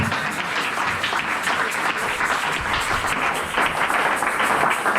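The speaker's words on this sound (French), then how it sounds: "Nous allons acclamer avec nos noms, comme nous honore nos parents." A church congregation applauds steadily, dense clapping filling the space without a break, with faint voices mixed in underneath.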